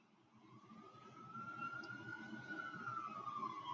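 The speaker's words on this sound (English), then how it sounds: "I hate when I hear ambulances come by." An ambulance siren wails steadily and gradually grows louder as it approaches, over a low rumble of traffic.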